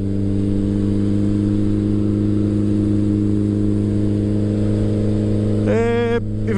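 A turbocharged Suzuki GSX-R Hayabusa motorcycle engine at low boost, a loud, steady idle drone close by that jumps into a quick rising rev near the end before dropping back.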